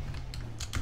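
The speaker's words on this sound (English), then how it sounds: "You might still hear the keyboard because I don't have a pop filter yet" Computer keyboard typing during a Minecraft session, a few quick clicky keystrokes over steady background hum, fairly close and alone for under a second.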